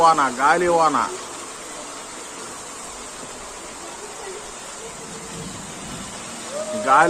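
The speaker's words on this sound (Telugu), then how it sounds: "చూసారా ఫ్రెండ్స్ ఎంత గట్టిగా వర్షం పడుతుందో" Dense, steady hiss of heavy wind-driven rain pouring down in Nidadavolu, East Godavari, with a person talking briefly at the start and again at the end.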